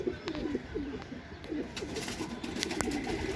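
A Kaldoma pigeon, a male, coos in soft repeated low phrases from close by, set against a faint steady hiss and scattered background clicks.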